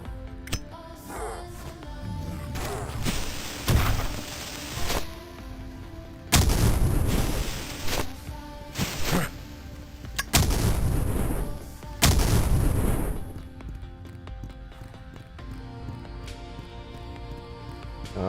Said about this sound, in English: I think that's a grenade launcher, dude.